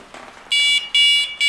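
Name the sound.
MK1 R-Plus Compact bite alarm range test tone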